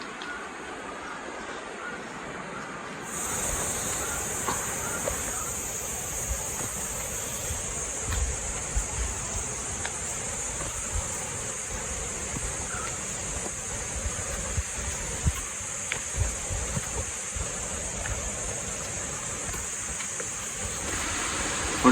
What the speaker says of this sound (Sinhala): මාර ලස්සනට ඇල්ල වැටෙනවා